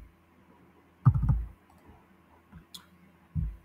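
Computer mouse clicking on an edit button in SAP S/4HANA software, with a few sparse, close clicks and soft thuds separated by quiet gaps, no speech.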